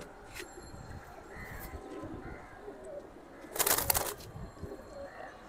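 Large-sized pigeons, a male and a female of good fighting and flying breeds, coo softly in a cage with a brief burst of wing flapping and rustling midway, no voices.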